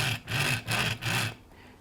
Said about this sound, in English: it's the noise of the wheels running on the chairs of the track